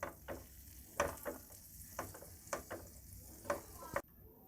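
Flour roasting in butter in a pan over very low heat, stirred with a regular rhythm of soft scraping strokes and a faint sizzle, close and alone without talk.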